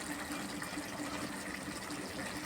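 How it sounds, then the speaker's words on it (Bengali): Water pouring steadily into a pot of potato and pointed gourd curry cooked with ground and powdered spices, a soft continuous gush throughout. "ঝোলের জন্য যে আলু পটল ভালো করে সব রকম বাটা মশলা গুঁড়ো মশলা দিয়ে ভালো করে কষিয়ে নিয়েছি। এবার জল ঢেলে দেবো।"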